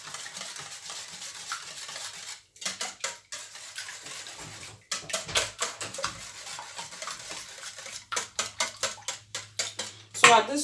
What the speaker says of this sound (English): And then you mix everything together.